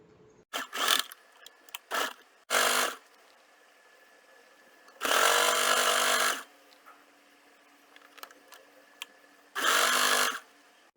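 A home sewing machine runs in short separate bursts as it stitches along the edge of a lapped cloth bag handle. Each whirring run lasts about a second or so, with quiet pauses between them.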